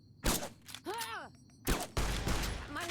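Gunfire in Fallout: New Vegas, several short close shots separated by gaps, heard alongside a groan and a voice talking.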